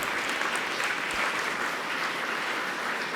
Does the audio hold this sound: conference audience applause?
yes